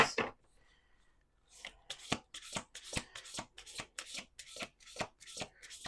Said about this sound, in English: All right, we're gonna do 2 more shuffles,